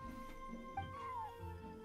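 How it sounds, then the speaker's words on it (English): A cat in Genshin Impact gives a short, fairly faint rising-and-falling meow over a soft ambient music bed. "Meow."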